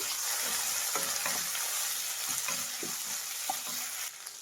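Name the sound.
ginger garlic paste frying for egg rice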